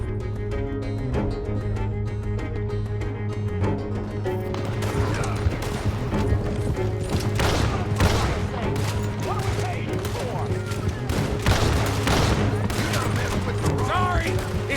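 Gunfire in Red Dead Redemption 2 during a stagecoach robbery: repeated shots cracking over a steady low rumble of hooves and wheels, with voices shouting now and then through the fight.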